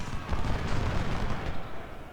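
Cannon artillery fire in the Civil War strategy game Ultimate General, heard as a continuous barrage of deep booms and rumbling blasts that overlap densely for the whole stretch.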